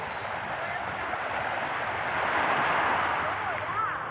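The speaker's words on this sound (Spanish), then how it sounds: "El sonido del mar relaja." Atlantic sea waves at Ceiba, Honduras wash steadily along the shore, a continuous broad rush of surf with wind noise, swelling slightly louder midway through, and no speech over it.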